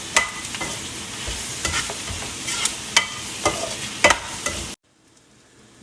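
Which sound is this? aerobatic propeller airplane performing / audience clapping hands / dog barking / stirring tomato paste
stirring tomato paste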